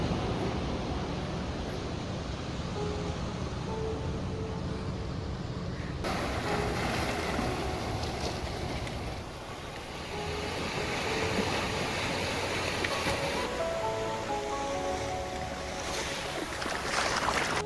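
Sea waves wash continuously along Nivti beach on the Vengurla Konkan coast, a steady, fairly loud surf roar with no speech.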